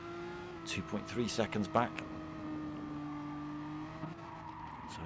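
A Renault Megane Trophy race car brakes hard into turn 1 at the Nürburgring GP circuit, with a steady engine drone and a brief tonal squeal. A commentator talks excitedly over it.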